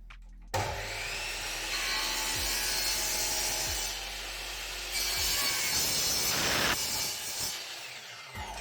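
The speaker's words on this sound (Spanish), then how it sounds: "Hacemos el corte de la tercera pieza" A power saw cuts a wooden piece for a drawer in a workshop. The motor holds a steady, continuous buzz that shifts in tone partway through the cut, then stops abruptly.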